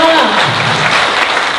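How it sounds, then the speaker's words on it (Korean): Audience applause at a political book-concert talk show, a brief, dense burst of many people clapping together, loud and close, with a voice briefly heard at the start. "이현주 의원한테 박수로 마무리 끝내주세요."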